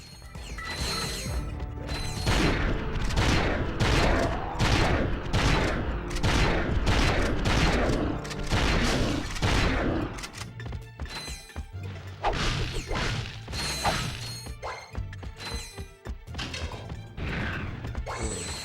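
Rapid bursts of blitz gun fire from the Ratchet & Clank: Going Commando video game, blasting an oncoming army at a bridge, come as a dense run of loud percussive shots, thinning after about ten seconds with scattered clanks and crashes.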